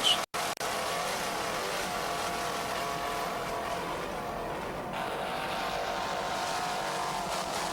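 An offshore racing powerboat driven by twin 500-horsepower Mercury engines roars steadily at speed in a dense, continuous drone, heard from a distance at a 1993 Fort Lauderdale race.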